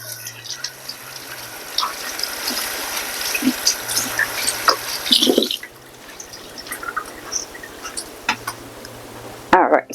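Tap water runs steadily onto a cloth tea towel used as a bowl cover, a continuous gushing splash that is close and fairly loud, with a brief stronger burst near the end.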